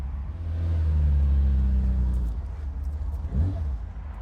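A cold 1972 Ferrari 365 GTC/4 fires up and settles into a deep, loud, steady idle rumble close by, then revs briefly near the end.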